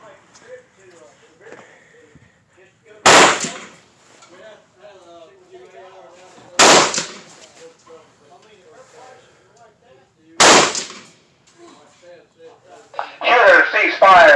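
Rifle shots at an outdoor range from 5.56 and 300 Blackout rifles, three sharp, loud cracks spaced a few seconds apart, with quiet talk between them and a final burst of noise at the end.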